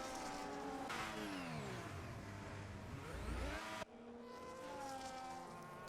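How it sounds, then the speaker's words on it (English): Race car engine in the F1 25 game on the Singapore street circuit, with a damaged wing, revs and sweeps up and down loudly, ending in an abrupt cut to a steadier engine drone. "we have to deal with that annoying engine revving sound"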